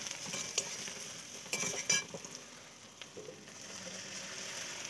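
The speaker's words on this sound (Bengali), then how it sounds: "পেঁয়াজ কটা দিয়ে একটু নাড়াচাড়া করবো" Soft, steady sizzling of onions frying in a pan with meat, with a few scraping stirs of a utensil against the pan.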